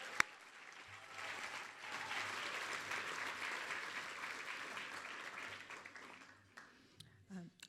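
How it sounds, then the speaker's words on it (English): An audience at a 2018 graduation ceremony claps for the graduates, a sustained mid-distance round of applause lasting about six seconds before tapering off, with a sharp clap or knock at the start. "can I get another round of applause for them?"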